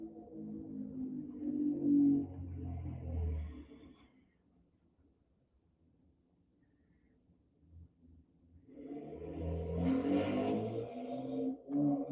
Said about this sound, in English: Now that it's nice out, we're back into people revving their motorcycle engines outside